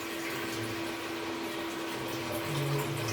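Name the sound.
water poured into a large pot for dough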